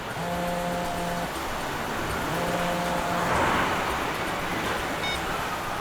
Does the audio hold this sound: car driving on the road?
yes